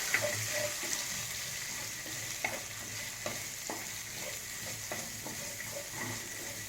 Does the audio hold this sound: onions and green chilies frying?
yes